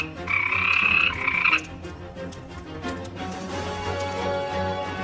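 Toads croaking as a storybook sound effect, a loud buzzing trill in two bursts up front, then fainter overlapping croaks and rustling beneath a low musical backdrop.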